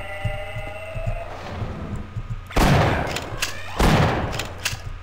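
Gunfire in the video game Half-Life: Source, with two loud, sharp blasts that ring out and decay, following quieter in-game activity and low rhythmic thuds.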